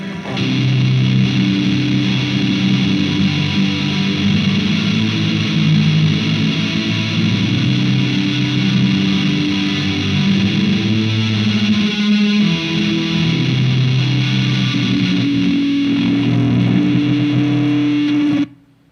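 Thick, heavily distorted electric guitar chords through reverb and distortion pedals in a shoegaze style ring out continuously with lush reverb and a chorus-like shimmer, loud and dense throughout, then cut off abruptly at the end.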